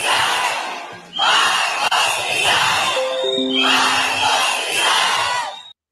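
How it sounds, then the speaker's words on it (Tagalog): A large protest crowd shouts a rhythmic anti-government chant calling for Marcos to resign, roaring in repeated massed bursts with whistles and cheers, loud and filling the space. "Marcos resign talaga yung sigaw ng maraming tao."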